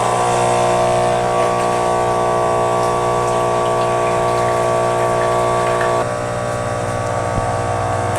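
Espresso machine pumping dark roast espresso through two spouts, a loud, steady mechanical hum and whine with a flowing liquid undertone that shifts pitch slightly partway through, with no talk.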